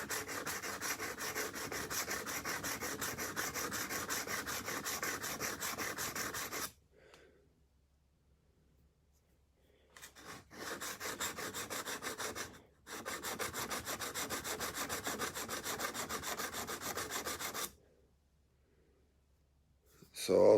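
A kitchen knife is stroked on a whetstone in steady rubbing passes, the grinding close and continuous, broken by brief pauses before the strokes resume.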